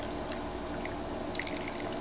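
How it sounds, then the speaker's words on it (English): Pure acetone pours into slots over gel-coated nails on a hand, a steady close liquid stream running continuously with faint splashy trickles and no talking. "you take your acetone, pure acetone, and you just pour into the slots"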